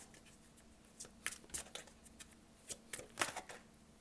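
Tarot cards riffle and snap in a string of short, crisp bursts, with quiet gaps between shuffles and a few sharp flicks as cards are drawn close by.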